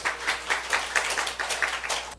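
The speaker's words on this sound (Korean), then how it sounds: "우리 감사의 박수 하나님." A church congregation claps in a steady, fairly quick rhythm at a Sunday service, the applause filling the room at moderate volume and cut off abruptly.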